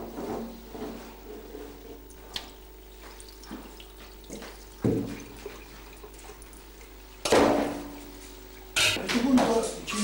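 Cooking liquid released by wild boar meat poured away into a sink, splashing and trickling water in irregular bursts with clatter, louder gushes near the end.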